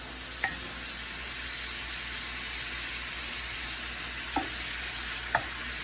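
Vegetables for a keto Philly cheesesteak casserole simmer and sizzle steadily in a pan as their liquid cooks off, with a few brief scrapes of a utensil stirring them; no talking.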